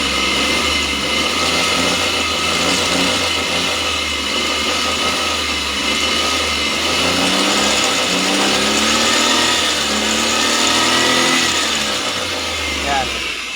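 A wood-fuelled Multicab engine idles with a steady low rumble, then revs up and down in rising and falling sweeps, loud and close while someone talks over it.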